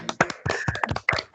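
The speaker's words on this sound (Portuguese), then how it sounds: "a gente dá uma salva de palmas para o Gabriel" Scattered clapping from a few people over a video call after a presentation, quick uneven claps overlapping through the microphones, close and somewhat choppy.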